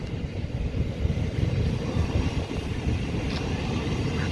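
A train at a Brighton Main Line station gives a low, steady rumble at moderate distance, with faint rail noise and no voices.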